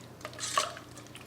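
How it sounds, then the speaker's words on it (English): Rotisserie chicken gets a brief stir in gravy in a pot, making a soft, wet squelch with a faint clink of the utensil, heard on its own for about a second. "Give it a stir to make sure it's all coated in that gravy."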